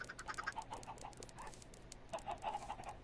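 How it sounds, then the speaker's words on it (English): A flock of chickens in Minecraft Bedrock Edition on PS4 clucks in short, repeated bursts, faint and scattered, with several birds calling over one another. "Look at this chicken army we've got started here."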